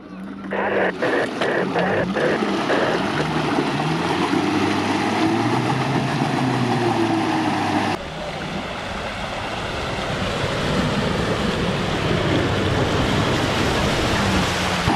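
Water sloshes and surges steadily as a Renault Duster pushes through it in an off-road trophy raid, waves spreading, with an engine running underneath and a brief voice early on.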